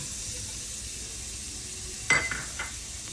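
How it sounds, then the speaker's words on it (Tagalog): Garlic sautéing in hot oil in a pan, a steady close sizzle that flares suddenly into a louder hiss with a metallic clink about two-thirds through, then settles again, with no speech. "Sautay mo lang yung garlic, kung sobra baka masunog, mapait"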